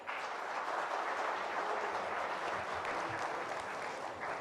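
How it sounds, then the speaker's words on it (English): A conference audience at the Bay of Bengal Conversation gives the speakers sustained applause, an even, dense roll of clapping from a large room that stays steady without voices. "this is your applause"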